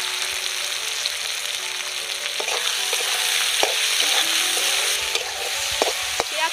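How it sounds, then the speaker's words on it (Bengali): Three small chopped onions with salt sizzle steadily in a pan for a village-style Kadaknath black chicken curry, with scraping stirs and light utensil knocks over the continuous frying hiss. "পেঁয়াজটা একটু ভালো করে ভেজে নেব"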